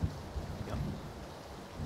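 Rain and thunder in PUBG play as a steady patter of rainfall under a low, distant rumble of thunder, with no voices over it.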